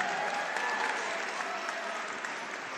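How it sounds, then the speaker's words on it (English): Crowd applauding fighters after a K1-rules kickboxing bout, steady dense clapping at moderate loudness with no break. "How about a round of applause for Neil Gray and Josh Collins before we announce it?"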